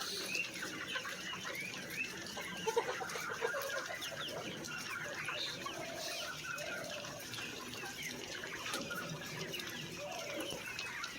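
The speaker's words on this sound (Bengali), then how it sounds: "এই যে দেখুন মুরগিগুলো নিপুল পানি খাচ্ছে কত সুন্দরভাবে।" Chickens in cages drinking from nipple drinkers, clucking continuously over a busy farm background, with occasional louder calls and a distant crow.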